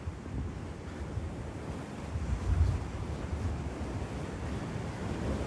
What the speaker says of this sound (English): now I have the wind pushing me back